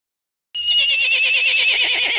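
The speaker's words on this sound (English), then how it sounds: "Horse." A horse neighs loudly and alone after a brief silence, one long shrill whinny with a rapid quavering tremolo that holds steady for well over a second.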